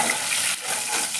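Bay leaves and dried red chillies fry in hot oil with whole spices, giving a dense, steady, close sizzling hiss throughout.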